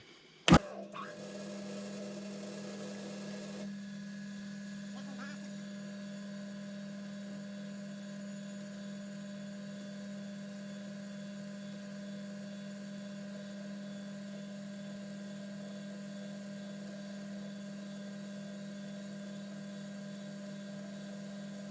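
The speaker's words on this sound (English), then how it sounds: "that's a 3mm carbide end mill. So we'll give it a go" Steady machine hum of a 3mm carbide end mill cutting, with a sharp click at the start and a faint whine early on, then a constant drone running alone throughout.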